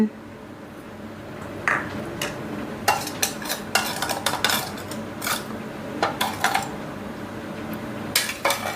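A spoon stirs seasoning, MSG and sugar, to dissolve it in a cooking pan: repeated sharp metallic scrapes and clinks against the pan in irregular bursts over a soft background hiss, close up.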